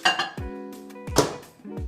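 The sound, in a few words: dish of chicken being placed into a microwave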